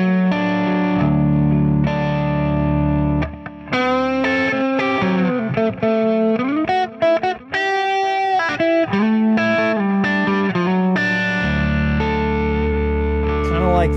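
A C.R. Alsip electric guitar plays on its neck pickup through effects, with chords and lead lines that sound warm and full, loud and close, with no talking.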